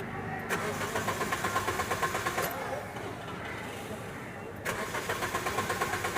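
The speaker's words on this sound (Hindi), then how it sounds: "मैं ऑन किया और इसको मैं क्रैंकिंग करता हूँ" A Maruti Suzuki Ertiga with an immobilizer fault cranks repeatedly without firing, the starter's rhythmic churning pulses running in two bursts separated by a brief pause, close and steady.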